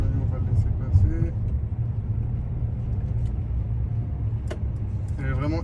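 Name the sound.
Mercedes V-Class 300d car driving on the road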